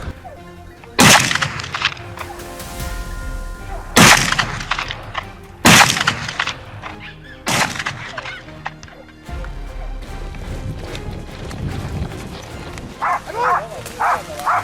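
Gunshots during a wild boar hunt, several sharp loud broadband cracks spaced a few seconds apart, with dogs and other outdoor sounds around them and some voices in between.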